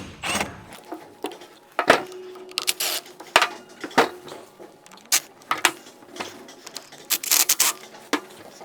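Metal clinks, taps and scrapes come as a Bobcat hydrostatic pump case is pulled apart after removing its bolts, irregular close-up knocks and rattles spread across the clip with no talking.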